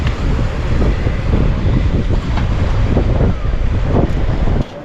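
Waves splash and wash over the shore at Fort De Soto beach, a close, continuous rushing surf mixed with gusty wind buffeting the microphone, with no voices.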